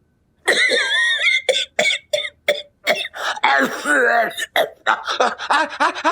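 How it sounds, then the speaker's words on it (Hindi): A comic character with a violent cough lets out a long string of harsh, exaggerated hacking coughs and throat-clearing groans, loud and close, broken by brief pauses. "बड़ी जबरदस्त वाली खांसी हो गई है"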